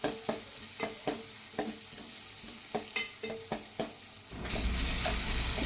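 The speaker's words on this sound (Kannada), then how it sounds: "ಟೊಮೆಟೊ ಹಾಕಿ ಚೆನ್ನಾಗಿ ಫ್ರೈ ಮಾಡಿಕೊಂಡು" Onion and tomato fry in a pan with a soft sizzle, punctuated by about a dozen sharp spatula scrapes and taps, before the sizzling swells louder and hisses continuously at the end.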